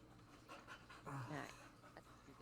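A dog pants in quick, breathy bursts close by, with faint people's voices chatting in the background of a casual indoor game night.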